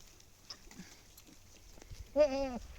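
A goat grazing in a field gives a single short, wavering bleat near the end, following faint rustling and small field noises, with no one talking.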